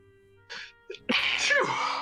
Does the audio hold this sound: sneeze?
yes